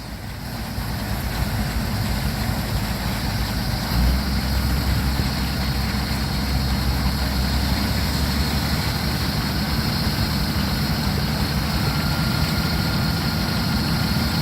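A PTO-driven sawmill blade turns at a gas and steam show, powered off a tractor, giving a steady loud engine drone with continuous mechanical hum and no pauses.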